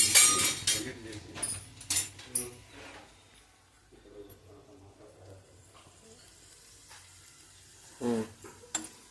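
Egg bhurji with onion is stirred in a hot pan, with a utensil scraping and clinking in bursts over a low, steady sizzle and a faint hum, close by, while a voice talks intermittently.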